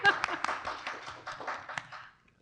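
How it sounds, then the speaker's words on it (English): Short burst of applause from a small audience at a community speaker-series talk, scattered claps fading out over about two seconds with some voices mixed in. "I'm going to give you a round of applause."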